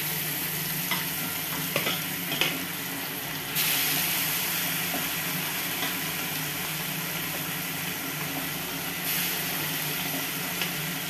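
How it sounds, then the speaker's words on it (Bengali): Tilapia fries in hot oil with a continuous hissing sizzle that swells louder partway through, with occasional utensil clicks and a low background hum; nobody speaks. "মাছ একটা ফ্রাই হয়ে গেছে আর একটা এখন ফ্রাই করবো"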